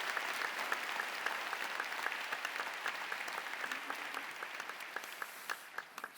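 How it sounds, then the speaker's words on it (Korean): A church congregation applauds at a Christmas service, steady crisp clapping throughout, heard from a moderate distance at a fairly low level. "여러분 그 다시 한번 박수로 감사를 표할까요?"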